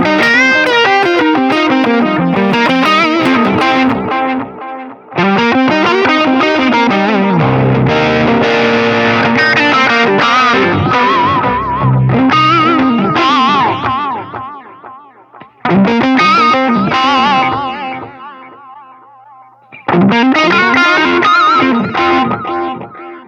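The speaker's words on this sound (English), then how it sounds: "The tape delay sounds pretty good." Overdriven electric guitar through a Line 6 POD Express pedal with tape delay plays loud chord and note phrases in several bursts, separated by brief gaps where echoes ring and decay.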